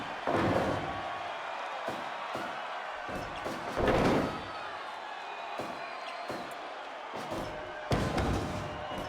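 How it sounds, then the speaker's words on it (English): Repeated heavy slams onto a pro wrestling ring mat during a match, several loud thuds spaced irregularly over a steady crowd murmur, with the biggest impacts standing out sharply. "Back and forth slams from Alexei and Taichi."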